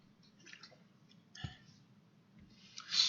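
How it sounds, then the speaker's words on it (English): A drink of water taken quietly at close range: soft sips, a wet click and a swallow, then a brief breathy exhale at the end, with no talk. "Excuse me, a drink of water."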